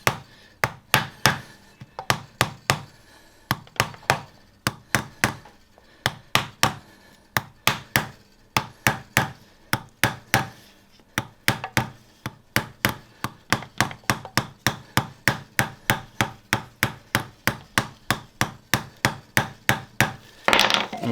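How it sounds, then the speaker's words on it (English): A hammer taps a part into place during a car clutch installation, a long run of sharp, close metallic knocks that start irregular and settle into a quick, steady rhythm. "I use a hammer and I come behind it and I go ahead and tap it in"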